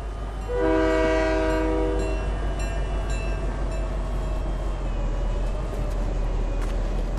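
A train passes in the video game Fortnite, its horn blasting a loud sustained chord early on over a constant rumbling rail roar that carries on steadily to the end.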